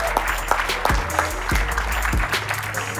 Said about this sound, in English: put your hands together for Steve Stoute